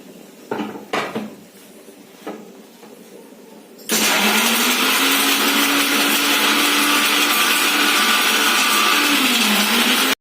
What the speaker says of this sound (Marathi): हे आपल्याला बारीक करून घ्यायचंय मिक्सरला